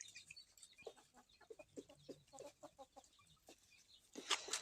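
An Oshamo rooster gives a run of short, rhythmic clucking calls to the hens, fairly quiet, ending in a louder, sharper burst.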